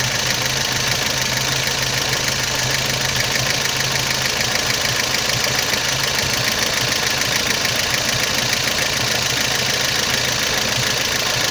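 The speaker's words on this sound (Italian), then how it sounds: "iniziamo a sentire che il regime scende" An Alfa Romeo twin-cam car engine runs steadily at idle during carburetor adjustment, revs dropping, a close, continuous mechanical drone with a fine rattling texture and no voices.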